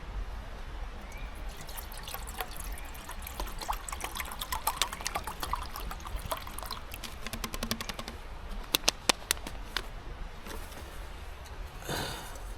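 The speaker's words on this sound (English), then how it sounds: "I'm just gonna add this whole bottle of water." Water pours and trickles steadily from a bottle into a camping cook pot in the woods, faint and close, with a few sharper splashes and drips near the end.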